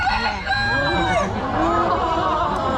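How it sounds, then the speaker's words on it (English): A red jungle fowl rooster named Mentari crows in one long, loud, drawn-out call, close by, against constant background noise at a zoo bird show. "he is a red jungle fowl"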